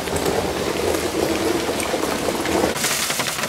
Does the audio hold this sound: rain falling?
yes